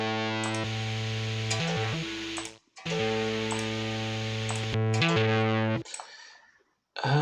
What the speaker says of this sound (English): we're going to go with a distortion track